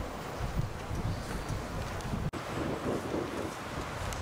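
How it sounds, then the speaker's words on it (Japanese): Strong wind gusts across an outdoor golf course during a tournament, a continuous low rumbling buffet against the microphone with fluctuating intensity and one brief dropout midway. "かなりの風が吹いているので、風との戦いになりそうです。"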